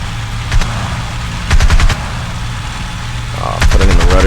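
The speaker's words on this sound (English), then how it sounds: "Let's do a strafing run on them here." Bursts of machine-gun fire from a P-40M fighter strafing a vehicle convoy in the IL-2 flight game: short, loud rapid volleys over a constant engine drone, three bursts spaced across the stretch.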